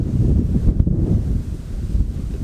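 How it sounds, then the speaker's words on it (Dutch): Strong wind blows across a microphone outdoors at Amsterdam Schiphol Airport, a steady heavy low rumble with gusting buffets throughout and no voices. "Het waait echt ongelooflijk hard hier, zoals je aan de bosjes wel kan zien."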